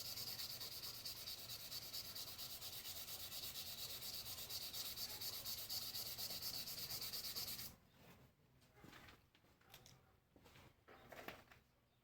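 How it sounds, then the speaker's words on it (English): A wooden pen blank being hand-sanded lengthwise with 320-grit paper on a stopped lathe. Close, steady, raspy rubbing runs continuously for several seconds, then gives way to quieter, separate back-and-forth strokes. "Stop the lathe, sand lengthwise to eliminate any circular scratches in it."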